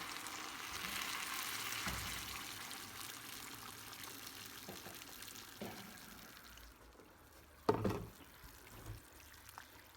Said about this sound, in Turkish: Fasulyeyi kavurdum. Şimdi sıcak suyunu koyuyorum.